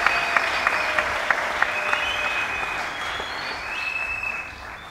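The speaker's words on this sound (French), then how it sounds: "Je vous demande d'applaudir tous les ministres" Audience applause for ministers at a tourism event closing ceremony in the DRC, steady crowd clapping in a large hall with a few sharp claps and faint high-pitched tones, fading slightly at the end.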